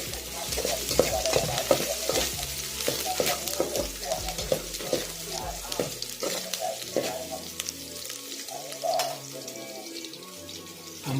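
Ampalaya con sardines (bitter melon with sardines) being stirred as it fries in a pan, a steady close sizzle with irregular scraping and clinking of the utensil throughout.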